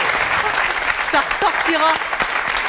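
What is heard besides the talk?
audience applause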